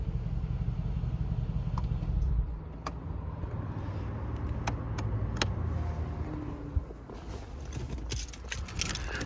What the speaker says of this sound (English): Let's go ahead and shut her down.